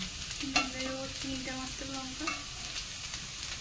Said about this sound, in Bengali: পরি আজকে ওর পছন্দ মতন আলু ভাজা করছে